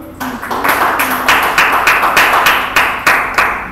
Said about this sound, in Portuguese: Aplauda o Senhor aí, vai. Aplauda.